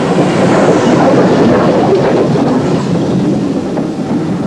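A Collett 1400 auto tank or pannier tank steam train on the Wye Valley line rumbles by loud and close, with a dense rolling roar and rail clatter and no voices.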